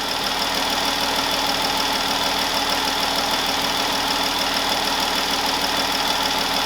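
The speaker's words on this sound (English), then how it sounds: "Engine's running" A 2015 Jeep Grand Cherokee with a 3.6L V6 idles steadily after new engine mounts, spark plugs and throttle body work, giving a constant loud hum with no change in pace and no voices.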